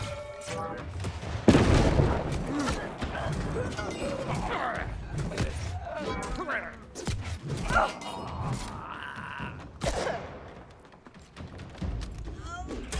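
Enemy gunfire in New World, including a sharpshooter's shots, cracks out as scattered loud bangs among game sounds over about thirteen seconds, with a person talking throughout.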